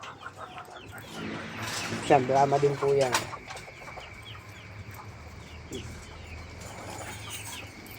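A chicken gives a short burst of clucking calls amid farmyard background near hens, with people talking nearby.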